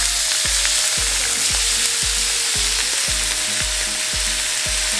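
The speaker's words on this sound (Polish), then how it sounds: "Na pomidory puszce krojone z dodatkiem ziół. Dodajemy do smażonych pulpecików." Meatballs frying in a pan after canned chopped tomatoes with herbs are added, giving a steady close sizzle with repeated rhythmic low thumps of stirring throughout.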